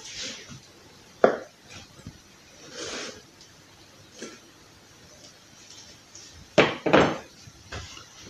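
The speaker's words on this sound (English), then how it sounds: "And we'll cut it into wedges" A knife cuts a freshly cooked pizza into wedges, producing a few sharp, close knocks and scrapes against a board separated by quiet pauses.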